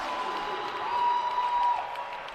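A basketball crowd at a Mansfield at Shepherd men's college game roars and applauds after a slam dunk. A steady, dense wash of claps and cheers fills the arena, swelling slightly midway, with no clear voices standing out.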